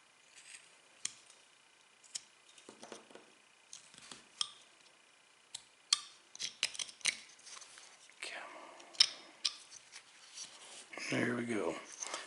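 Knife cuts on a wooden gnome carving: scattered short scraping and slicing strokes, close and fairly quiet, with pauses between cuts and a longer rasping cut near the end.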